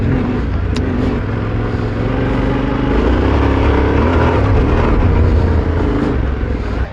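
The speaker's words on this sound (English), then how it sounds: "It uses this CP2 engine, which is performing absolutely brilliant." A Yamaha Tenere 700 Extreme adventure motorcycle with its CP2 engine and stock exhaust can runs loud and close, a steady rumbling drone that swells slightly mid-way, heard alone.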